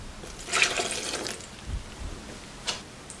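Water, 160 ml of it, is poured into pizza dough in a home kitchen, heard as short liquid splashes and trickles in a few separate bursts, close by and without talk.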